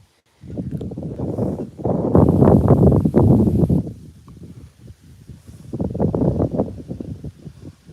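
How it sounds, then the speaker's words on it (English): Wind on the Norfolk Broads buffets the microphone in strong gusts, loud rumbling bursts rising and falling in waves with calmer gaps between them. "it's always windy here on the Broads."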